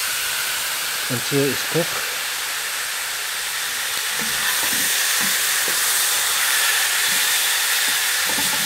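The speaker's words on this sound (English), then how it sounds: "It's going to take a while to fry our lamb." Lamb stir-frying in a pan, Samoan style, with a loud steady hiss of sizzling fat filling the whole clip while someone talks briefly over it.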